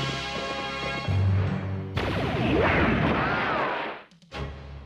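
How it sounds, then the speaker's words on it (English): Cartoon cannon fire from the animated series BraveStarr: a heavy crash and booming blast with a whooshing sweep, dense layered effects and music, loud throughout before dropping briefly near the end. "Those darn dingoes are getting good with that cannon."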